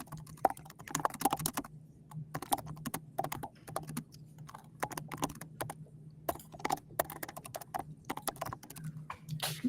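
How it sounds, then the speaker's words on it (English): Computer keyboard typing in bursts of rapid, uneven clicking keystrokes with short pauses, fairly close and alone over a steady low hum. "I can hear that keyboard, Shannon."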